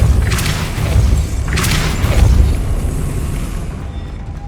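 Spell blasts from the Hogwarts Legacy video game, loud booming force bursts with a deep rumble and two sharp crackling impacts early on, then a fading heavy tail, with no talking.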